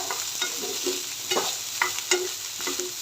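Lemon rice is stirred and mixed in a pan over a low gas flame. A spatula scrapes and taps in quick irregular strokes over a faint sizzle, close and clear, with no speech.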